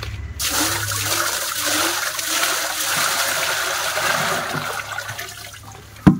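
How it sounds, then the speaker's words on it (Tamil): Water pours and rushes into a fish tank being filled for snakehead fish, a loud, continuous gushing splash that holds steady throughout, with a brief bump near the end. "அதனால் இப்போ நம்ம இதில் தண்ணியை ஃபில் பண்ணி மீனை விடலாம் கைஸ்"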